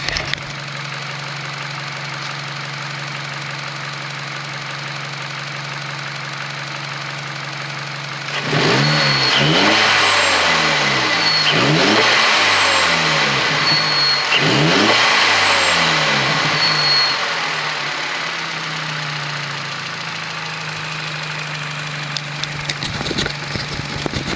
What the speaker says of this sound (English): I'll give you a couple of revs